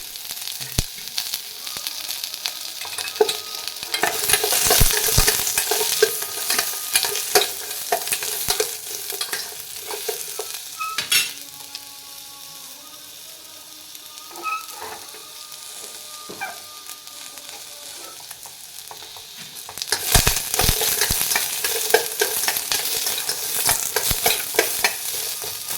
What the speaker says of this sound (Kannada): ಈರುಳ್ಳಿನ ಈ ಥರ ಬಿಡಿ ಬಿಡಿ ಮಾಡ್ಕೊಂಡು ಹುರ್ಕೊಂಡ್ರೆ ಬೇಗ ಫ್ರೈ ಆಗುತ್ತೆ.